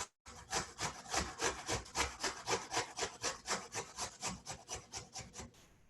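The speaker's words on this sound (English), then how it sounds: "Just kind of grate through the strings." A stringy vegetable is rubbed against a kitchen grater in quick, even rasping strokes, about a dozen and a half in a row, close and fairly loud with no voices.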